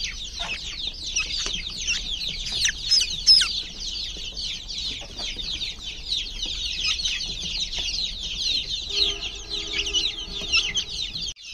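A flock of some thirty backyard chickens, several of them sick with fowlpox, keeps up a dense, steady clucking and chattering close by, with no talk.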